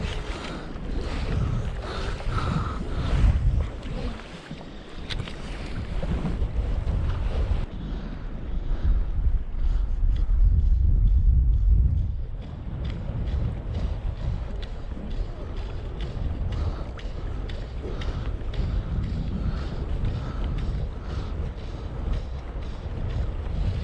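Gusty wind buffeting the microphone on the shore of Big Lake, Arizona, loud rumbling surges that swell around the middle and then settle into a steady rush.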